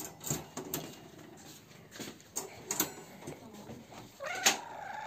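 A cat meows softly a few times in a quiet room, short mewing calls spaced apart with faint rustling between them.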